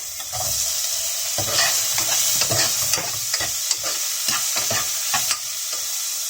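Tomatoes go into a pan of sizzling pork ribs, with a steady hiss of frying and repeated scraping and knocking of the stirring utensil against the pan, close and fairly loud.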